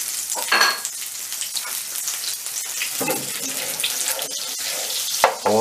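A spoonful of butter melting into hot oil in a pan, a close sizzle and watery hiss with a few sharp spatters and clatters, no talking.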